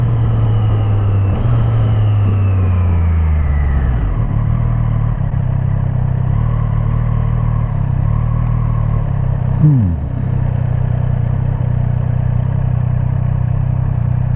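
A 2024 Triumph 765RS naked triple motorcycle under way, loud steady engine drone heard from the rider's position with rising and falling pitch as it shifts through gears, including a quick downward sweep near the end.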